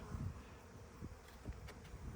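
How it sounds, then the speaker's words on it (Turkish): A low, steady hum of many bees buzzing close by around hives being transferred, faint and continuous with small swells, no voices. "dışarıda çok arı var onun"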